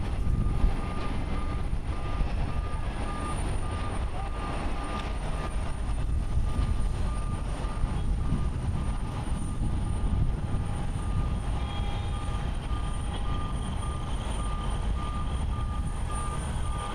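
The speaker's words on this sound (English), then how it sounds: "Air Due Flight 65 departing to OBO on a Boeing 737-700, 17 years old." A 17-year-old Boeing 737-700 on Air Due Flight 65 departs Haneda Airport in Tokyo, making a loud continuous jet roar with heavy low rumble that holds steady throughout, plus a faint tonal whine.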